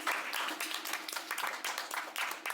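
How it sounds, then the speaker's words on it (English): Short burst of clapping from a small indoor audience at a lava show in Iceland, lively and fairly close, lasting a couple of seconds. "Round of applause, everybody."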